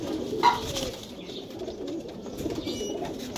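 Soft pigeon coos sound on and off over a constant wash of ambient noise, moderately close, with a brief sharp chirp early on.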